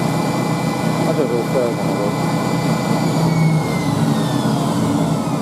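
A Hoover Spinarinse 3012A twin tub washing machine, freshly fitted with a new belt, runs with a loud, steady motor drone and whine that fills the room, while a person speaks briefly over it.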